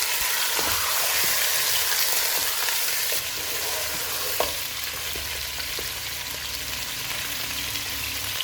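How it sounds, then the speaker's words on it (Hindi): Mutton hits three tablespoons of hot oil in a pot over a full flame, giving a loud, steady, close sizzle broken by a few clicks and scrapes from stirring, with no talk. "ऑयल गर्म हो गया है, इसमें मटन डालेंगे। चूल्हे को फुल रखेंगे और इसको 4 से 5 मिनट तक भूनेंगे।"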